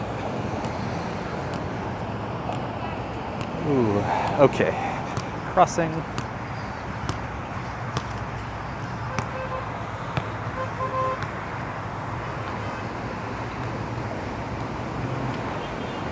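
Steady traffic rumble at the Houston Street overpass in New York City, a continuous roadway wash with a few passing vehicles swelling briefly, while people talk over it nearby.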